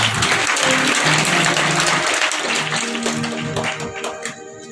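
Loud audience applause at a Krishna Janmashtami devotional gathering, honouring a devotee, with dense clapping and a musical tone under it that fades over the last second.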